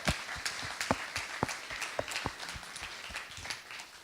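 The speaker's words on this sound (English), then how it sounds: "Give them a clap." Wedding guests clap for the groom's family, a light, scattered round of applause with uneven claps at a moderate distance, no voices over it.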